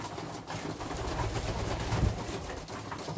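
Domestic pigeons of mixed colour varieties coo softly and continuously in a loft, a low steady murmur with no voices.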